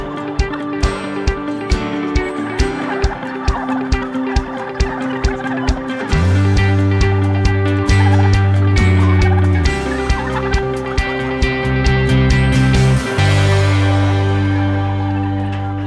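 Turkeys gobbling inside a large turkey farm barn housing tens of thousands of birds, a dense loud chorus of overlapping gobbles with sharp repeated calls over a constant background din.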